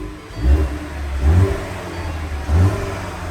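A red 2019 Ford Mustang EcoBoost convertible with automatic transmission sits running outside, its engine humming close by with three distinct revs rising and falling over a steady idle.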